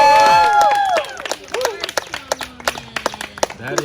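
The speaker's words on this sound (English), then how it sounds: "Clap for this." A small audience claps for Jessica after her yoga speech, a short burst of scattered, uneven hand claps following a high voice, with murmured talk and babble mixed in.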